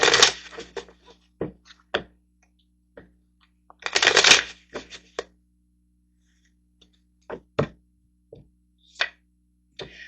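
Tarot cards shuffle close by in bursts of riffling and flicking, with a couple of longer riffles separated by quiet gaps and lone card slaps.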